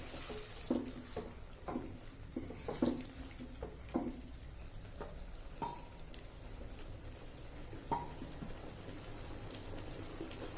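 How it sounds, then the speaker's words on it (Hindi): Water poured into a cooking pot of bottle gourd curry, running with intermittent splashes and clinks of kitchenware, moderately close, no voices. "पानी मिलाएंगे हम आधा कप।"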